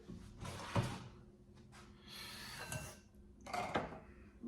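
Quiet metal scraping against a pan, a few rough strokes spaced out over a few seconds, faint and close.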